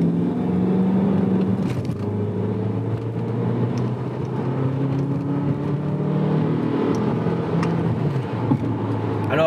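A Bugatti Veyron engine hums steadily and pulls harder, its tone climbing as it accelerates, loud and close throughout with no voices.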